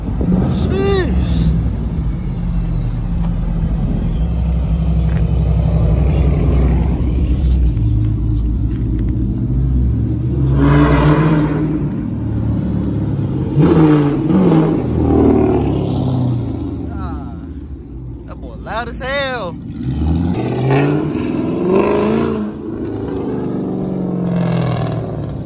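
A loud Mopar muscle car revs hard several times, its rumbling exhaust surging and falling, with people talking and shouting excitedly over it.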